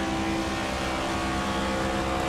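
Race car engines in the NASCAR 25 video game during a race at Las Vegas make a loud, steady, dense roar that drones on without a break and with no voices.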